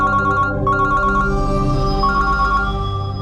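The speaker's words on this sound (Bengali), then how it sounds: "আমি একটু ফোনটা ধরি।" A phone ringtone rings loud and close, a repeating electronic melodic pattern with clear tonal notes that runs without pause across the whole stretch.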